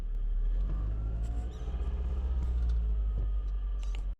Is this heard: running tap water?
no